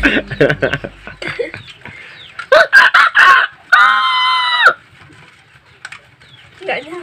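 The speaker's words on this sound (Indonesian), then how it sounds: "wih mantap suara ayamnya guys" A rooster crows loudly and close by, a long sustained call following a few shorter clucking bursts, with faint background noise.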